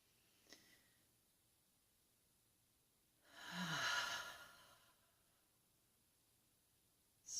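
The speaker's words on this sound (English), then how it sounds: "And one more breath." One slow, deep breath taken in a quiet room during a calming exercise, a soft breathy exhale swelling and fading mid-way, near and alone, with a faint click before it.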